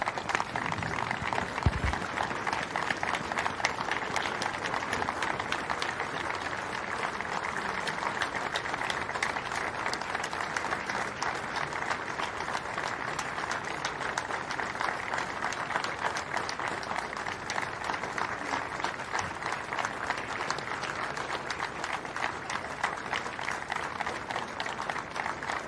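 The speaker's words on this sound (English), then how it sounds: "That was a 30 seconds applause for Colwyn Bay fan Dave Roberts" A football crowd at a Colwyn Bay v Barry Town United Welsh Premier match gives sustained applause in tribute to a deceased Colwyn Bay fan, an even, unbroken wash of clapping lasting the whole stretch.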